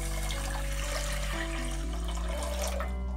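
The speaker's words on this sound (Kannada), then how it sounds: "ಅದಕ್ಕೆ 2 ಕಪ್ನಷ್ಟು ನೀರು ಹಾಕ್ಕೊಳ್ಳೋಣ" Water poured from a cup onto sugar in a cooking pot to make syrup for rasgulla, a steady pouring splash that runs continuously and fairly close, with no talk over it.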